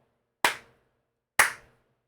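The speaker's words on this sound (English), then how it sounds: "It's my slow clap." Two sharp, isolated hand claps about a second apart, slow and deliberate, with silence around them.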